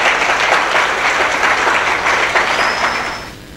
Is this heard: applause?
yes